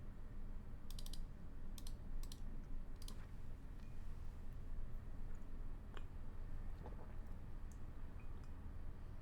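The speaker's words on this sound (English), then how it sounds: "It's right at the edge of this table when I type on the keyboard." Typing on a computer keyboard at the edge of a table, heard as irregular clicking bursts, strongest early and thinning out, over a steady low background hum.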